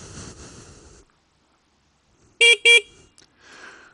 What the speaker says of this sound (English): it's got a horn